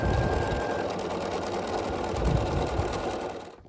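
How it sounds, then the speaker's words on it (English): A sewing machine stitches quilt blocks together in one continuous close run of rapid, even mechanical whirring that stops at the end. "And just sew across the side here."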